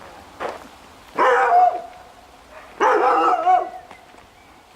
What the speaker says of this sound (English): That's all we need, barking dogs.